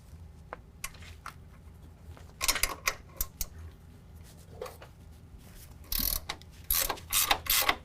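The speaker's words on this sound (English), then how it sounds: "We're going to remove these nuts with an 18 millimeter." Ratchet spinning off 18 mm nuts during a coilover lift kit install on a 2019 GMC Sierra 1500, short bursts of sharp clicking with gaps, close by and quiet between strokes.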